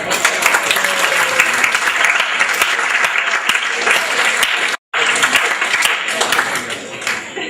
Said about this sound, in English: Round of applause for our participants.